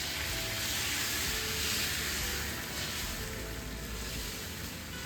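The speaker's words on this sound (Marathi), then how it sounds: "पाणी आणि तांदळाचं जे मिक्सचर आम्ही बनवलंय पण तव्यावर टाकणार आहोत" Rice flour and water batter for ghavane sizzles on a hot tava griddle, a steady, close, even hiss throughout with no voices.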